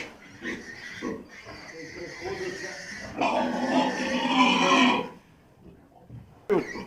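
Piglets grunting and squealing up close, with a few short bursts and then a long, loud stretch of squeals.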